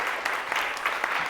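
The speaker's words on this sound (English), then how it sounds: "let's give Mr. Yager a round of applause" Applause from a lecture audience fills the room, a continuous patter of clapping hands at moderate distance with no talking over it.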